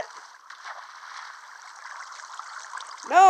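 Flowing water in Minecraft, a soft continuous trickling stream running steadily with a slightly louder splash at the very end; no voices.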